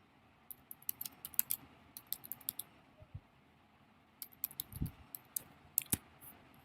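Keys clatter on a computer keyboard in quick, irregular bursts while someone types HTML paragraph text, with a pause midway before the tapping resumes. The sound is close and quiet, and no one talks.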